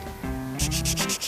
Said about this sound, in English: It's sanding out pretty good.